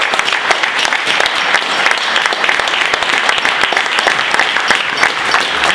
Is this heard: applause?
yes